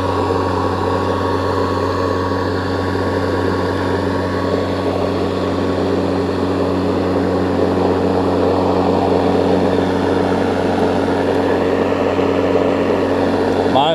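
A Snapper 60V battery string trimmer runs at a steady speed, giving a smooth, continuous electric whine with an even hum close by. It keeps a constant level for the whole stretch without any pauses.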